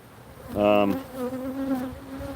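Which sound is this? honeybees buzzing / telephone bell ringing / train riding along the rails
honeybees buzzing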